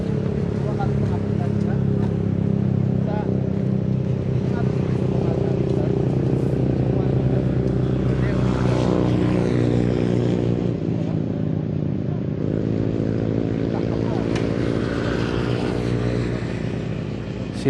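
Agricultural spraying drone flying over a rice field near Bantul, Yogyakarta, its steady loud motor and propeller drone continuous throughout with shifting tonal whine, while people talk over it.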